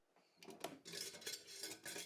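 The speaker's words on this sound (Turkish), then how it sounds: "Kapağını kapatarak yumuşayana kadar haşlamaya bırakıyorum." Metallic clanks and scraping of a heavy pressure cooker lid being set and fastened, close up, with a few sharp knocks and no talking.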